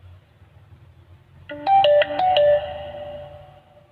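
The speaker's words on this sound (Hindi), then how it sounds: "देखिए मोबाइल ऑन हो रहा है।" A Jio LF2403N phone plays its short startup melody while powering on: a bright sequence of several electronic tones, loud and close, with a lingering tail over a quiet background.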